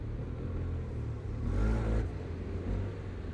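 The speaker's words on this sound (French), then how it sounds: "Ouais, il a une bonne accélération." A 2020 Yamaha TMAX 560 scooter accelerating, its low engine rumble swelling and rising briefly, then settling, heard up close from the rider's position with wind noise.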